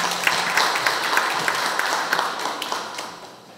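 Audience applause in a hall at a Korean education forum in Siheung, steady dense clapping that fades slightly toward the end.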